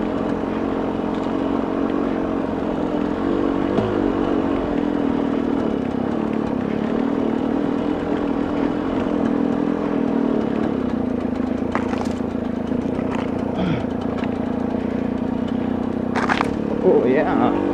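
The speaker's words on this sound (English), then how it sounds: "You gotta love these dirt bikes, man." Dirt bike engine running steadily along rough backcountry roads, a constant droning motor hum throughout, close by, with someone talking over it.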